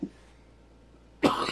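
A single short cough bursts out close and fairly loud after a faint throat sound, with near silence in between.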